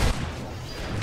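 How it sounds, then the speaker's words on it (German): Explosions in the shooter game Army of Two: The Devil's Cartel, a heavy boom at the start that leaves a dense, rumbling roar of blasts and debris for the rest of the second. "Boah, nur Explosion!"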